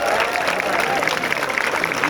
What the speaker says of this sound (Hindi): इसका हम जश्न मनाएं तालियों के साथ।